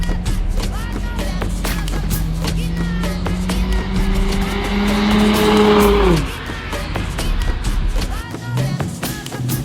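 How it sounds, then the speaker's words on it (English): An Infiniti G35 with its muffler and resonator deleted drones loudly as it revs, its raspy exhaust tone climbing and then dropping off sharply before settling into a rumbling idle. "wow, is this how loud my car is gonna be?"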